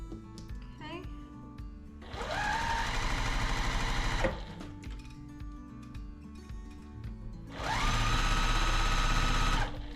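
A sewing machine stitches quilt pieces for a brick-pattern quilt, running in two sustained bursts of steady whirring separated by a quieter pause with small handling noises, close and fairly loud.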